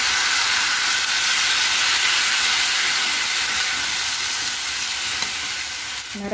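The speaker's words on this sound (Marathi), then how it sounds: "आता मी टाकणार आहे हे कांदे." Onions frying in a pan with turmeric, a loud continuous hiss of sizzling oil up close that holds steady and eases slightly near the end, with no talking.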